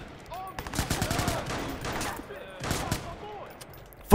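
Bursts of automatic gunfire in Watch Dogs, several rapid volleys of sharp cracks with short pauses between, fairly close and loud, with voices mixed in between shots.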